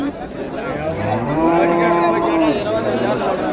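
Dairy cattle at the Vaniyambadi cattle market give a long, drawn-out moo, loud and near, with crowd chatter and market noise behind it.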